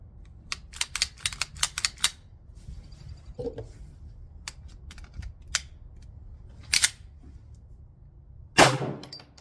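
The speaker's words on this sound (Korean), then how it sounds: "에어렉 공중 장전 한번 해보죠" The slide of a Staccato P pistol is racked by hand in the air, giving a quick series of sharp, close metallic clicks and clacks, then a few isolated snaps separated by quiet pauses.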